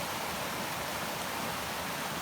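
A woodland waterfall in Horner Woods near Porlock rushes steadily, a soft continuous hiss of falling water, moderately distant and unchanging, with no voices.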